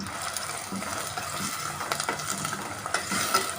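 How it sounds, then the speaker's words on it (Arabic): Onions fry in hot oil for Egyptian koshari, a close crackling sizzle with rhythmic scraping stirs throughout. "هنا الزيت بعد ما سخن زي ما انتم شايفين كده، هنحط البصل عليه"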